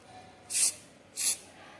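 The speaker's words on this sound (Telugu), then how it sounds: "ఇలా స్ప్రే చేసుకోవాలన్నమాట" Coil cleaner spray shoots onto an air conditioner coil in two short, close hissing bursts with a quiet pause between them.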